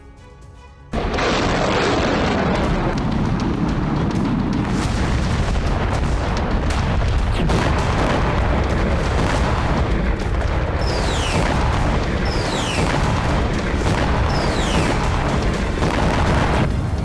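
A loud, sustained roar of blasts and rumbling explosions in Iran, dense and continuous, with sharp whistling streaks overhead and no voices.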